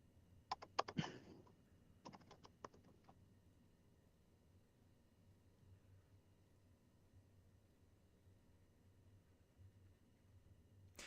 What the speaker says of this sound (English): while you're typing all this stuff,